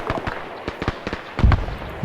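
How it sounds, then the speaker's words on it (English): Mortar shells exploding in the military game Arma 3, with several sharp blasts scattered across the clip and a heavier, louder impact near the end. "there come the mortar shells"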